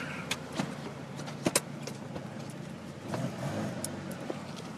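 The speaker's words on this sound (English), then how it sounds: "So now I'm parking." A car pulling into a driveway in a cul-de-sac at night to park, heard as a faint low engine rumble with a few sharp clicks and knocks, without talk.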